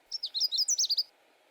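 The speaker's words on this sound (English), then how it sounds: "Now compare those pattern birds to Canada warbler. It's just kind of a jumble of notes." A Canada warbler sings one quick jumbled burst of about nine bright chirping notes, close and clear over a quiet background.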